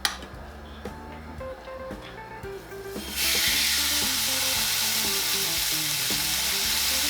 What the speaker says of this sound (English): I'm going to go ahead and try to place my steak on,